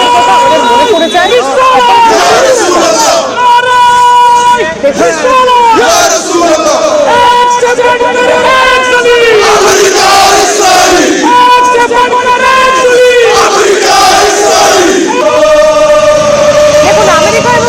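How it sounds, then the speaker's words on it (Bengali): A large crowd chants slogans against America and Israel in loud, rhythmic call-and-response waves, with many voices shouting together in repeated phrases that go on without a pause. "দেখুন আমেরিকা এবং ইসরায়েলের বিরুদ্ধে এখানে স্লোগান চলছে"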